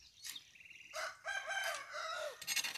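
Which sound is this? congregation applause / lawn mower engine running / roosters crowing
roosters crowing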